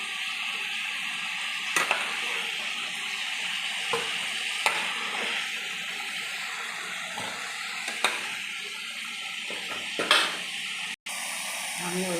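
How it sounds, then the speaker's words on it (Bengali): Dried chilies, cardamom, cinnamon and cloves frying in oil, a dense continuous hiss and crackle of hot oil with occasional short clicks and a brief dropout near the end, close and fairly loud. "আমি ওই তেলেই 2 শুকনো লঙ্কা, এলাচ, দারচিনি, লং ভেজে নেব।"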